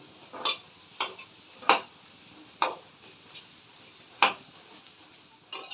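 Papad frying in hot oil, heard as a handful of short, sharp crackling bursts spaced irregularly over a quiet background, close and fairly faint.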